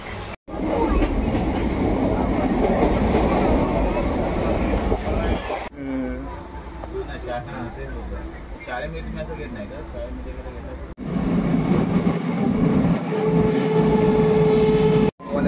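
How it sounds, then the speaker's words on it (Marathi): Rumbling interior of a moving passenger train, a constant low roar with rattling carriage noise that drops briefly in the middle and swells again, while people talk over it nearby. "फायनली आपण पोहोचलो आहे, आता ट्रेनमध्ये बसलो आहे"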